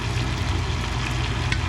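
Steak sizzling in a hot pan while being basted, a steady dense crackling hiss with a low rumbling undertone, continuous and close.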